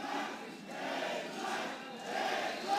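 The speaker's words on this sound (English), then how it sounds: "We're going to let the crowd take over for a second" A crowd at a Gears of War esports match between Splyce and eUnited in Mexico roars and cheers in steady, swelling waves, loud and continuous with no commentary over it.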